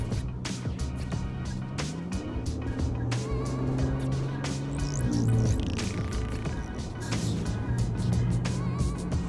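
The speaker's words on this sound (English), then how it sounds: "driving a giant, fast, four-door Porsche through the desert." A Porsche Panamera 4S with a 2.9-litre twin-turbo V6 drives through the desert, its engine a steady, loud drone that rises and shifts pitch with gear changes throughout.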